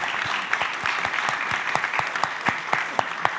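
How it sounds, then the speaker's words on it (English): Audience at a Kubernetes community conference applauds after a talk, a dense steady clapping from a room of people with a few sharper nearby claps standing out. "please, once again, big applause for Andrei"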